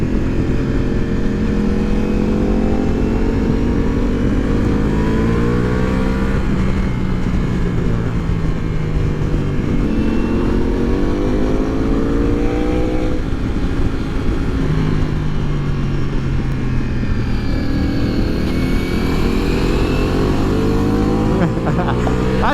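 A 2023 Ducati Multistrada V4 Pikes Peak motorcycle is ridden, its V4 engine droning loudly and steadily with repeated rising revs through the gears, heavy wind rush throughout.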